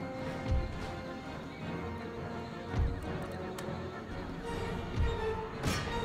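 Horse artillery galloping in the Empire: Total War battlefield, with neighing horses and hoofbeats that recur as sharp low thumps against a constant background of battle din.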